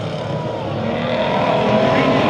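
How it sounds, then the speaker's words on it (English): Hobby Stock race cars rumble and build throttle together at the start of a heat race at Rocky Hill Speedway, a loud, rising engine drone from a pack of cars. "Getting ready to go green for another heat race with the Hobby Stocks racing green flag in the air"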